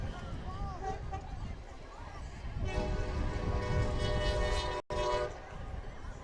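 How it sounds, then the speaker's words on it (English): A train passes near a high school football stadium at night, its horn sounding in long sustained blasts over rumbling rail noise, with a commentator talking over it. "And here comes train number 2 for the night."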